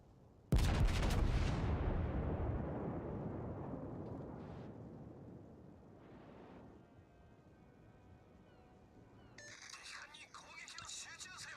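Battleship main guns fire a heavy salvo in World of Warships, a sudden loud boom that rolls off into a long fading rumble, with smaller later blasts and game chimes near the end.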